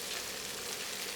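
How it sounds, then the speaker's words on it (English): Steady, dense sizzling of pork frying in a hot pan, loud and close, with no pauses. "You hear the sizzle, sounds really good."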